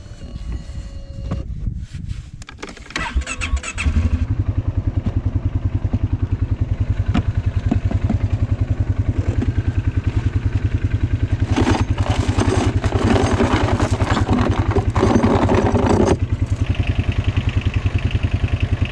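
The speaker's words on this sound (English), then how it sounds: "Stuck tractor." A stuck tractor's engine runs steadily and close by, a loud continuous drone with clattering, rising in intensity partway through, with no talk over it.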